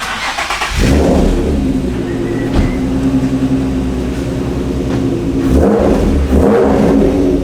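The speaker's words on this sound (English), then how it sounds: "There you go, reverse donut." Nissan 350z spinning a reverse donut outside a car styling shop: a loud, close engine held at high revs with tyre scrub, rising in surges near the start and again toward the end.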